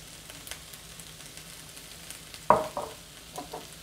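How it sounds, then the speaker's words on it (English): Chicken and pasta stir fry sizzles softly in a pan, a low steady frying hiss with a sharper stirring clatter midway and a few lighter scrapes after, quiet overall. "So I will allow this to fry for about 2 minutes."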